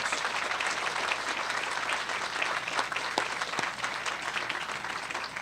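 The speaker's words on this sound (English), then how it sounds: "Let's give them a big round of applause" Sustained crowd applause at a Montgomery County Animal Shelter press event, an even, dense roar of clapping throughout with a few sharper claps standing out, moderately loud and continuous for the whole stretch.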